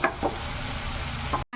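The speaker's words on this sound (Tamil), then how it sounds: "உப்பு போட்டு இந்த வெங்காயம் நல்லா வதங்கணும்," Onions sautéing in oil with salt make a continuous close sizzle broken by a few soft stirring scrapes, then the sound cuts out briefly before resuming.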